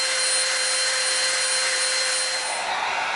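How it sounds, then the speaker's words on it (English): Dremel rotary tool rounding the edge of an EVA foam chainsword piece: a continuous high-pitched motor whine with a steady tonal hum, loud and close, easing slightly near the end. "now we're going to round one edge of this off with our Dremel"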